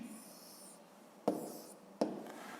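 A pen writes down a math solution on paper, giving soft, quiet scratching strokes with two sharper taps close by.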